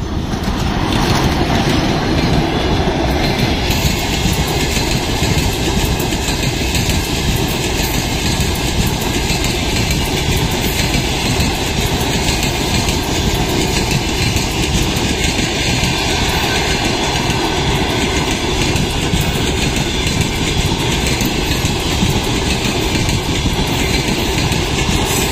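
A ChS4 electric locomotive hauls a passenger train past at close range, with a loud continuous rumble of wheels and carriages and a steady rhythmic clatter over rail joints that lasts throughout.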